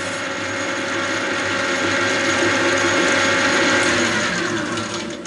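Metal lathe with a four-jaw chuck turning a workpiece, giving a loud continuous mechanical whir with a rattling chatter that holds steady throughout, close and without talking.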